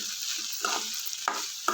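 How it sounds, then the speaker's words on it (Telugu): Food frying in oil and being stirred in a tall pot, with a soft continuous sizzle and a few sharp scraping clicks of the spoon near the start and end, close and fairly quiet. "ఆ తడిపోయే వరకు కొంచెం వేయించుకున్నాం ఆయిల్లో"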